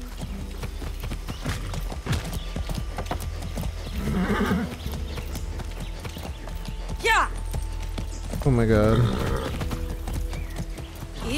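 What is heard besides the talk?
horse galloping in a video game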